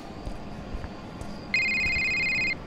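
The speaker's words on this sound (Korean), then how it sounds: "전화 왔다" Telephone ringing in the horror video game Devotion, set in a hotel: a quiet ambient bed with a faint tone, then a loud electronic ring begins partway through and holds steadily for about a second.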